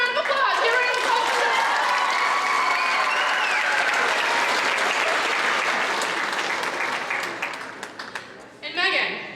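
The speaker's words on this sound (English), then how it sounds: "Give her a round of applause" A school assembly crowd gives sustained, dense applause for a swimmer, loud and even for several seconds before thinning into scattered claps, with a few voices talking underneath.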